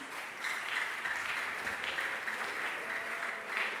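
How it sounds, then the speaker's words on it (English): A crowd keeps applauding a church diocesan choir at a concert, steady broadband clapping that runs continuously and fairly loud for a few seconds with no clear voice over it. "Another clap, please."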